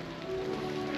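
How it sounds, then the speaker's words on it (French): Steady rain falls outdoors near the grottoes at Lourdes, a constant hiss of drops on surfaces with a faint tonal hum underneath and no talking. "il pleut, on n'a pas pu faire les grottes."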